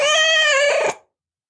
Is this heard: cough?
no